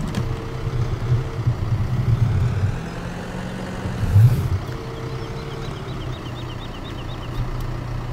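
A starter tractor with front and rear power hitches and front loader arms in Farming Simulator 17 on the Lawfolds, Aberdeenshire map, with its engine running in a steady low idle drone that swells briefly twice.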